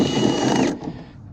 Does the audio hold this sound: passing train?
no